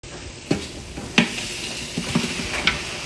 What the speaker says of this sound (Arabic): نضيف الخروف المقطع